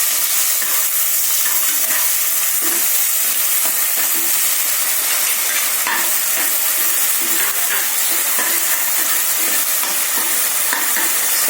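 Two to three medium onions fry in a hot pan for roast lamb, giving a loud, steady sizzle with continuous crackling and occasional stirring scrapes, with no voices.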